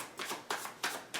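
Tarot cards are shuffled by hand in four quick, soft riffling bursts, close and quiet with nothing else around them.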